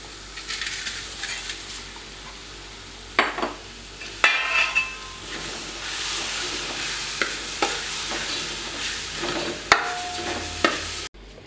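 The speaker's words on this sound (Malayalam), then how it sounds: "സ്റ്റൗ ഓഫാക്കിയതിന് ശേഷം അവൽ അതിലേക്കിട്ട് നന്നായി ഇളക്കി തട്ടിപ്പൊത്തി വയ്ക്കുക" Flattened rice (aval) is stirred in a pan off the heat, a continuous close gritty scraping and rustling broken by sharp spoon knocks against the metal, with no one speaking.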